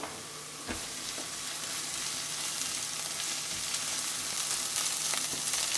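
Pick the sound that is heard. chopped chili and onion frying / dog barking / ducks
chopped chili and onion frying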